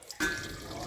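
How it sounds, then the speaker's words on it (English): Water poured into a pot of cooking lamb curry, starting abruptly as a short, close splashing rush that settles into a steady bubbling hiss. "I will be adding some water in it, not too much yet"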